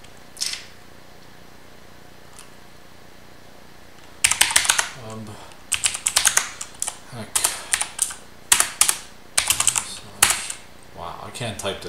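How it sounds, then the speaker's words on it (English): Close, rapid typing on a computer keyboard in irregular bursts, some faint keystrokes at first and then dense clattering runs, on a Linux install. "Can't type today, sorry guys."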